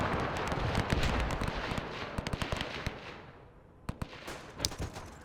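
Rapid bursts of machine gun fire in a WW1 battle game, dense crackling volleys that thin out and then return as scattered sharp shots, fairly faint with no talk over them.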